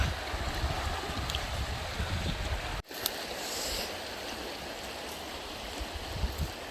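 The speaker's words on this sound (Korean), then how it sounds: "아, 물소리 듣기 좋다" Stream water flowing steadily outdoors, a broad continuous rushing wash with a brief dropout partway through, heard alone without talk.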